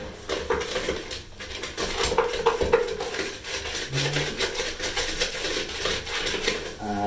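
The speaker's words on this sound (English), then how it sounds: "we're just going to keep stirring and put a wee bit in, like so." Sugar being stirred into a mixture in a kitchen bowl, with repeated scraping and clinking of a spoon against the dish in an uneven rhythm, close and moderately loud, with no voices.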